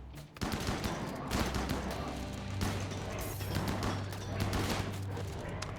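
Rapid bursts of gunfire in the video game RimWorld, a sustained fusillade of overlapping shots with loud crashes layered over a continuous low game drone.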